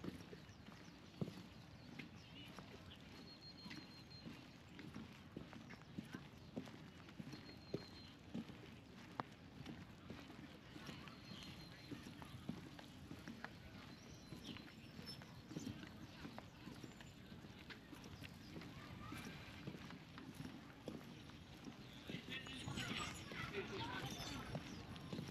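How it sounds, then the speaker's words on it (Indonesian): Horses clip-clop along Cijin Beach in Kaohsiung, Taiwan, their hooves tapping in a steady walking rhythm at moderate distance, with people talking over the outdoor ambience. "Oh, banyak kuda-kuda di sini."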